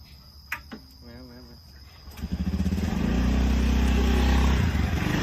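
A motorcycle starts up and revs into a loud, rising, sustained engine drone, preceded by a few sharp clicks and knocks, with crickets chirping in the background and people talking nearby.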